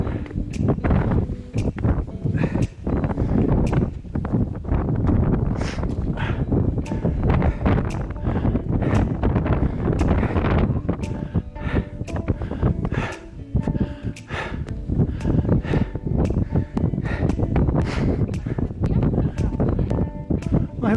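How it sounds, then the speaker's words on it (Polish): Strong gale wind buffets the microphone on Babia Góra mountain in September, a loud continuous roar with gusty thumps and rustling, while people talk in the background. "U mnie musiała być wichura chyba."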